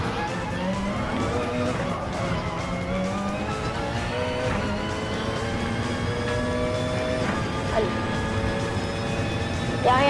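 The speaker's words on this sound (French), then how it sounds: "Ouais, avec la Porsche 919 hybride." A Porsche 919 Hybrid race car in a racing video game at the Nürburgring runs steadily, its engine whine rising and falling through gear changes, with tire squeal.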